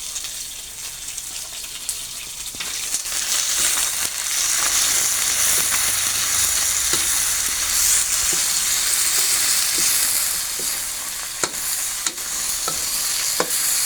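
Bitter melon curry being stir-fried in a pan over a strong flame makes a steady loud sizzle, with a spatula scraping and clacking now and then throughout.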